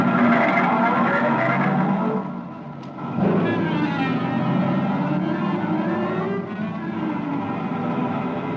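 A radio drama sound effect of a new car driving off, its engine revving and accelerating steadily with tire noise, loud and sustained, easing briefly before picking up again.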